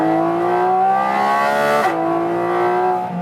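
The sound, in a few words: Porsche 718 GT4 RS driving on a track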